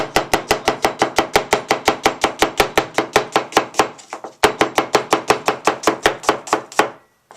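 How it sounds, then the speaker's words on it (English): A knife chops onion slices on a cutting board in quick, steady strokes, about twenty even taps, a brief pause, then another run of regular chops, close and loud with no talking. "Now I can cut the onions."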